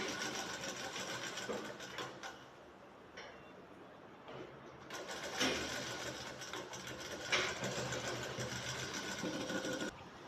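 A sewing machine stitches along the edge of a shirt collar and pocket, running in several short whirring bursts separated by brief pauses, close and fairly quiet with no talking.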